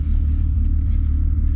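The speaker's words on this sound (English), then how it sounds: "hopefully you guys can hear the exhaust from back here well as well" Steady, loud low rumble of a VR6 engine's exhaust on an MK3 car, heard close from the back window, droning continuously with no talk.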